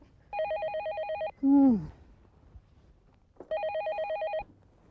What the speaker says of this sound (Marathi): ए फोन घे, तुझाच असेल.